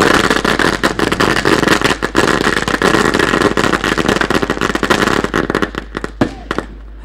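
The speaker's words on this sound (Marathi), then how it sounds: "फटाक्यांच्या आतषबाजीमध्ये" Fireworks display at a cricket premier league event, a dense rapid barrage of loud crackling bursts and pops close by, thinning out toward the end.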